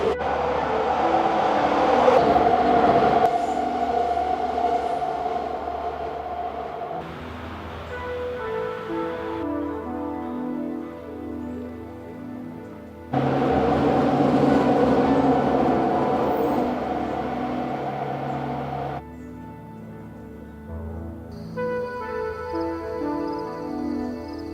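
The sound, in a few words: Vancouver SkyTrain passing next to a park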